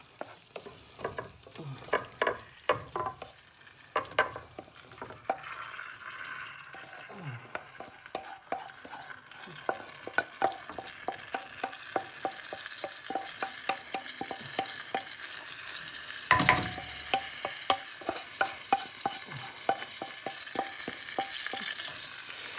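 Vegetables for chanakhi stew sizzle steadily in a hot pan, with frequent clinks and scrapes of a utensil stirring, plus one louder clatter partway through.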